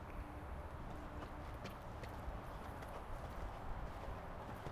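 A horse canters in an arena during a jumping lesson, its hooves faint and rhythmic over a steady background wash.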